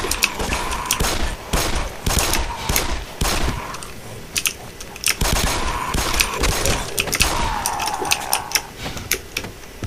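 Rapid bursts of gunfire from the video game Black Mesa crackle throughout, with dense overlapping shots and short pauses between volleys.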